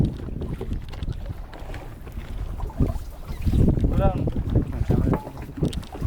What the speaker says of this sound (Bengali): একটু বোটটা ঘোরাতে হবে।